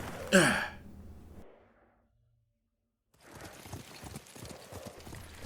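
Horse hooves clip-clop as riders mount up in the video game Ghost of Tsushima: a breathy burst and brief quiet, then a steady run of close, muffled hoofbeats continuing to the end.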